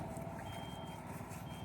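A low, steady engine rumble runs continuously with a faint high whine on top, like a tractor motor idling nearby.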